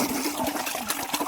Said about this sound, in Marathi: आता असं पाणी आपल्या गडलीमध्ये भरत आहे